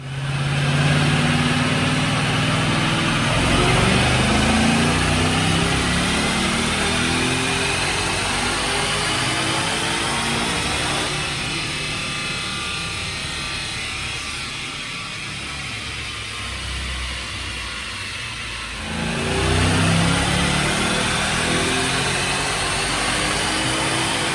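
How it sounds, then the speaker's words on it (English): A stock manual 2011 Roush supercharged Mustang running a Brenspeed 650R package roars through a dyno pull, its engine note climbing and straining loud and near, then easing off and revving up again. "So let's make that dyno pull."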